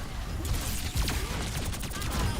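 Overwatch gunfire crackles in a dense, steady stream of rapid shots over busy in-game noise, moderately loud and continuous throughout.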